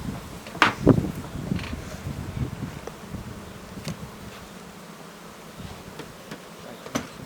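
Honeybees hum around an open hive in a low, steady drone, faint and close, with scattered handling clicks and taps.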